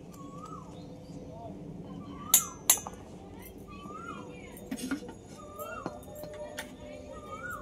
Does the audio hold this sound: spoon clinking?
yes